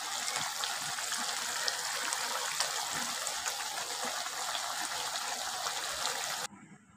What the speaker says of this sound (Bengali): কিছুক্ষণ পর ঝোলটা ফুটে উঠেছে।